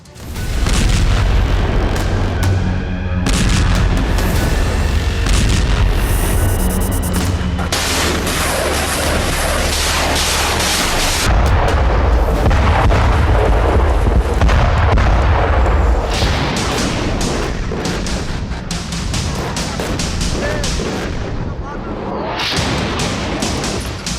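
Loud explosions from ballistic missile and artillery strikes in the Nagorno-Karabakh war against Azerbaijan, with heavy booms and rumbling blasts rolling continuously and densely, one after another, with no talking.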